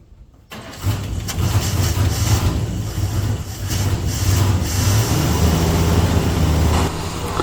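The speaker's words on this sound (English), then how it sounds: "Let's have another crack at starting this car," A Holden HG car being restored cranks and fires up after a short silence, then runs at a rough, uneven idle, loud and close, with no voices over it.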